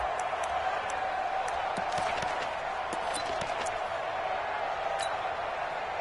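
A stadium crowd in a PS4 football game roars in a steady, moderate wash with scattered shouts and squeaks, while a commentator-style voice talks over it.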